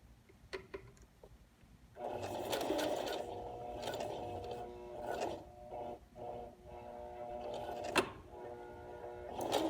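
A sewing machine stitching fabric for a messenger bag, quiet handling at first, then several whirring bursts of stitching separated by short pauses, close and fairly soft.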